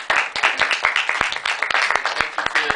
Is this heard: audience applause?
yes